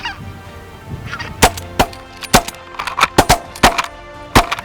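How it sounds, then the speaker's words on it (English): Speckle-bellied geese honk repeatedly overhead during a waterfowl hunt, a loud flock giving sharp, overlapping calls in an irregular burst of clear honks with no talking. "As the night went on, the geese continued to come, flock after flock."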